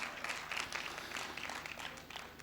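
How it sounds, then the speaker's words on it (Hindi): Audience applause at a Hindi kavi sammelan poetry recital, a steady wash of many hands clapping throughout, moderately loud and dense with no break. "तालियां बजाओ, बहुत जोरदार बजाओ।"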